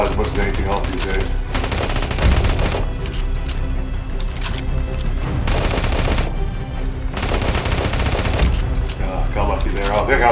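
In the Afterpulse shooter game, an A500 Cinnabar gun fires rapid automatic bursts, loud and close, in several long stretches broken by brief gaps, with someone talking over the gunfire.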